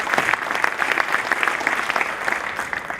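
Conference audience clapping steadily for a speaker being called to the stage, a dense, continuous patter of many hands at even loudness for the whole stretch, with no talk over it.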